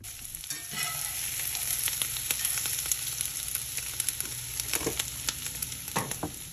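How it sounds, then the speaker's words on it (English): Slices of Spam fry in a pan with a steady sizzle and crackle, punctuated by small pops and stirring, close and moderately quiet with no talking. "There's something magical that happens to spam when you fry it and it gets that nice caramelized coating on it."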